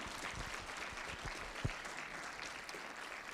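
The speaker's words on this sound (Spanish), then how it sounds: "Dale un fuerte aplauso al Señor." Steady applause from a church seminar crowd, dense and continuous clapping throughout, with a brief louder clap or thump near the middle.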